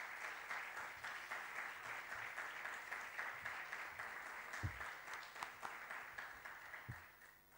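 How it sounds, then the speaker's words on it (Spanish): A political assembly's audience gives sustained applause in memory of Javier Ardínez, a dense, even patter of many hands heard from a distance for several seconds before tapering off. "Os pido un fuerte aplauso para su memoria."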